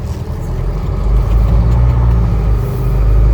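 2020 Hino 155 regular cab box truck with an 18-foot box on a test drive, a loud steady engine rumble and road drone heard from the cab, with no talk.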